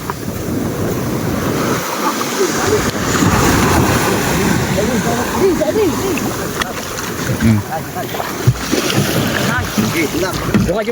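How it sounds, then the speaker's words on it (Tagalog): A fishing boat moves over the sea with waves splashing and wind rushing past, loud and close, while people talk intermittently in Filipino in the background. "kami po ay nakasakay na sa bangka dahil mag-aalisan na nga po"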